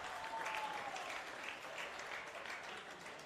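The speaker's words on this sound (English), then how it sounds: "You can hear by the ripple of applause from the small gallery here tonight." A faint ripple of applause drifts from a small gallery at a stadium during an Australia U-23 versus Sydney FC football match, distant, soft and continuous with a thin whistle early on.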